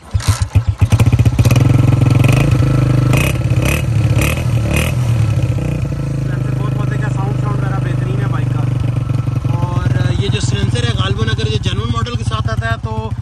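A Honda CG 125 motorcycle fires up with a few sharp, clattering bursts, then settles into a loud, even idle close by before the engine picks up and revs.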